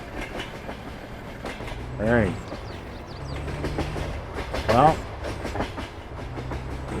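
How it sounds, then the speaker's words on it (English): A train rumbles and clatters past in Farming Simulator 22, a steady rolling clack with two louder swells, while someone talks briefly over it. "Big old train coming through."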